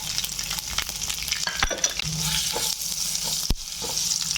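Dried chilli, bay leaf, cardamom, cloves, cumin and ginger crackle in hot oil, making a close, busy sizzle with scattered pops and a couple of sharp utensil knocks.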